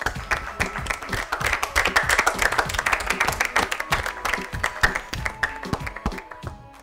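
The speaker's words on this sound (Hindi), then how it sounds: "जोरदार तालियां।" A small audience at a classroom arts and maths quiz claps enthusiastically, a close, uneven burst of hand claps that builds, holds, then thins out toward the end.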